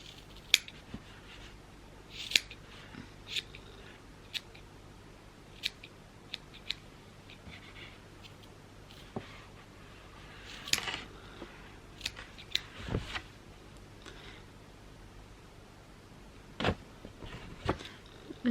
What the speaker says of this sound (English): I'm just going to give it a trim, just like this.